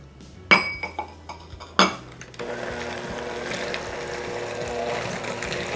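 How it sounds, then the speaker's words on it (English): An egg is cracked into creamed butter and sugar in a bowl, a few sharp clinks and taps against the rim, then a steady low mixing rustle carries on close by. "I'm going to add in my egg."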